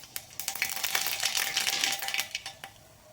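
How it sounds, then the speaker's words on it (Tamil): Mustard seeds popping and spluttering in a spoonful of hot oil in a pan, the first step of a tomato chutney: a dense run of sharp crackles and little pops that keeps going for about three seconds, close by and with no talk. "கடுகு பொரிஞ்சிருச்சு."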